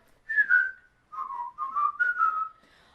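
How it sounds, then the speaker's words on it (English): A person whistles a cheerful tune alone, several clear sustained notes in short phrases, close and fairly loud. "just purse your lips and whistle, that's the thing"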